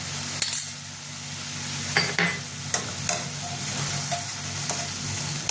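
Whipped sour yogurt going into a hot frying pan of fish curry with fenugreek, sizzling steadily while a utensil stirs and scrapes against the pan in repeated clinks, close and fairly loud.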